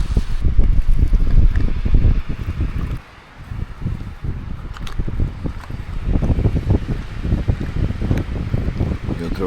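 Heavy mountain wind buffeting the microphone in a loud, continuous rumble that dips briefly, then gusts back with the same roaring force.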